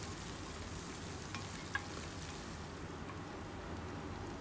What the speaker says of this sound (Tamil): இப்போ எடுத்து வச்சுருந்த உருளைக்கிழங்கையும் சேர்த்து ஒரு மிக்ஸ் கொடுத்துடலாம்.